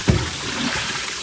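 Water runs steadily from a kitchen tap during meat preparation, a continuous close hiss and splash with no talking over it.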